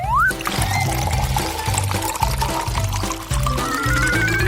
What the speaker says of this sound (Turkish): Şimdi süt ekleyeceğim.